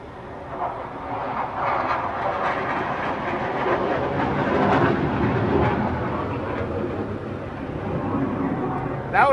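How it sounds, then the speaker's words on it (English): A loud airplane passes overhead, a broad roaring rumble that swells toward the middle and slowly fades, heard while people talk nearby. "That was a loud ass plane."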